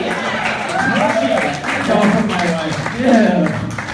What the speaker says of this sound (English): can we also just give a big, round of applause to Dr. June's amazing hair?